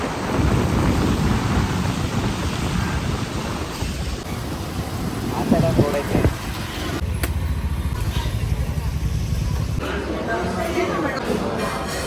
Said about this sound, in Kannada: ಫುಲ್ ಮಳೆ ಆಗಿದೆ.